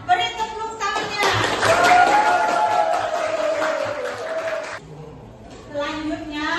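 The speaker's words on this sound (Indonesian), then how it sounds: "Beri tepuk tangannya" A classroom group claps together for a classmate in a few seconds of brisk, dense applause, with a voice speaking over it and more talk before and after.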